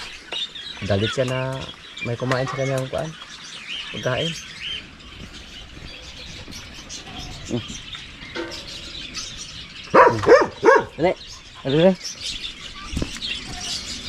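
A pet crow near chickens on a rural property gives harsh, repeated calls in short bursts, close and loud, while someone speaks between and over them.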